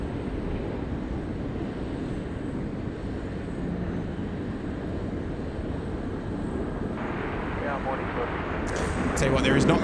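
Qantas Boeing 737 in Retro Roo livery approaches Sydney Airport, a steady broadband engine roar heard from a distance that grows louder toward the end.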